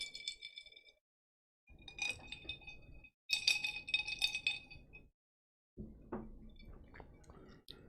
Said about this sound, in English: We're going to jingle our ice